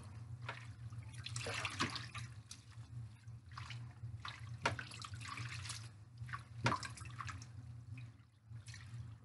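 Steady running water splashes continuously while rinsing crochet hair, with a low hum and scattered louder gushes and drips as it pours over something close by.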